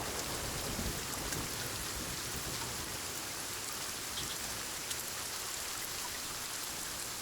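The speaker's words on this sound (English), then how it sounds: "Also, this rain is so loud." Steady, dense rain pours down in the survival game Sons of the Forest, an even hissing wash that stays constant and fairly loud throughout with no voices over it.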